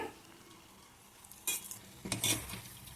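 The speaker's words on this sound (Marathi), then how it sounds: "ह्यासुद्धा आपण तळून घेऊया" Sesame-jaggery modak frying in hot oil, a soft low sizzle that swells into louder bursts of bubbling and stirring partway through, with no talk.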